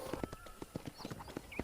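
Horse hooves clip-clop at a steady walking rhythm in Red Dead Redemption, crisp and close, with a faint melodic game soundtrack underneath.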